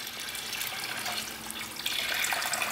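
Nine liters of water are poured onto a grass test bed to mimic heavy rainfall, a continuous rushing splash that grows slightly louder near the end, heard alone.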